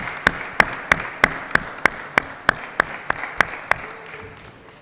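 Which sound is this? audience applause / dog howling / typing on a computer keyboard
audience applause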